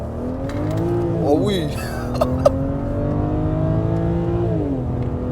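A BMW 335i engine blips its throttle in a couple of quick revs over a steady idle, fairly close, with brief talking in the background.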